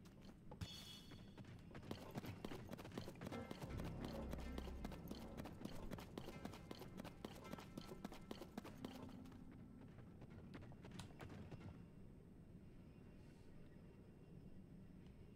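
Horse hooves clip-clop at a steady walking rhythm in Zelda: Tears of the Kingdom, close and fairly loud over game ambience, easing off and thinning out toward the end.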